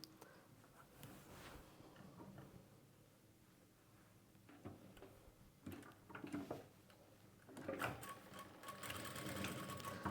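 Sewing machine stitching a folded half-inch hem on a chudidar slit, with bursts of fast mechanical running that stop and restart, getting louder toward the end, with no talking.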